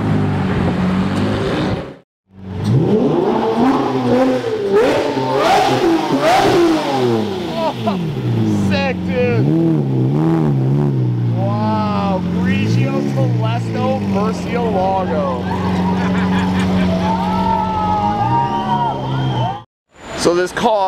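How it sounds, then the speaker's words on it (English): A Lamborghini Murcielago LP640 revs loudly and close by at a roadside traffic stop, with a series of sharp throttle blips rising and falling through the clip and people talking around it. "this guy was nice enough to give me some revs in his Murcielago"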